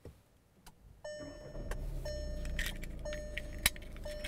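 Keys to a 2015 Volkswagen Golf SportWagen jangle close by inside the car, with soft clinks and a few sharper metallic taps over a faint steady hum, and no voices.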